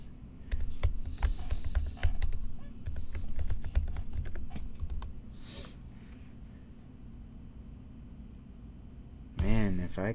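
Keys tap on a Mac keyboard during password entry, dense and uneven for several seconds and then thinning out, with breathing and a brief voice near the end.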